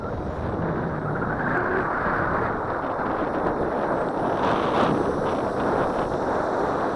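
Wind buffets the microphone outdoors while an Eachine Falcon 210 FPV racing drone is flown, making a steady, loud, broadband roar with no clear breaks.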